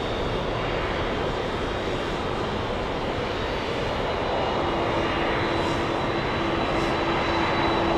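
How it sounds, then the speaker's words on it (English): A Boeing 747 jet crossing departure runway 22 right at JFK airport gives a steady, loud broadband engine roar that holds evenly throughout, with a faint tonal whine laid over it. "Let's go over to the 747 crossing the departure runway 22 right."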